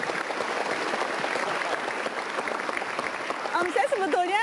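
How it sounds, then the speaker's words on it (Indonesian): Loud, sustained audience applause fills the space, with a voice beginning to speak as the clapping carries on near the end. "kita kasih tepuk tangan untuk Hasan Nasbi."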